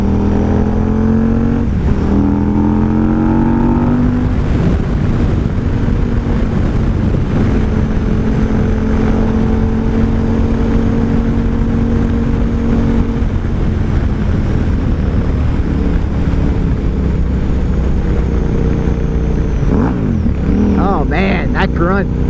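A 2012 KTM 990 SMT supermoto touring motorcycle with a V-twin engine is ridden, its loud engine droning and shifting pitch under heavy wind noise for the whole stretch, with the rider talking over it.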